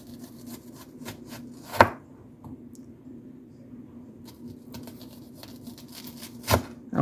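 A knife slices thickly through onions for onion rings on a cutting board. Two sharp, close chops stand out against quiet background taps and faint kitchen hum.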